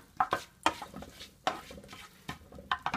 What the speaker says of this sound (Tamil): இப்போ கொஞ்சோண்டு இலை, பட்டை இது மட்டும் தாளிக்க போகாது.